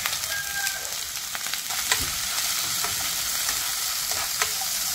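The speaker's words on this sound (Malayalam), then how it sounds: "ഈ എണ്ണയിലേക്ക് തന്നെ നമ്മൾ അരിഞ്ഞു വെച്ചിരിക്കുന്ന ചെറിയ 2 സവാള നീളത്തിൽ അരിഞ്ഞു വെച്ചിരിക്കുന്നതാണ്, ഈ സവാള ചേർത്ത് കൊടുത്ത്" Two small onions, sliced lengthwise, fry in oil with a loud, continuous crackling sizzle and scattered clicks of a spoon stirring against the pan.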